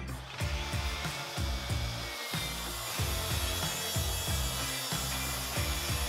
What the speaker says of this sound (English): I got started by breaking down a piece of plywood with my track saw.